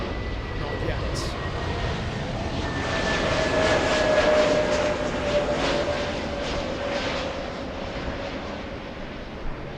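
Air Tahiti Nui airliner engines holding a steady, broad roar at LAX, with a continuous rumbling drone and faint tonal whine, loud and constant throughout with no talk.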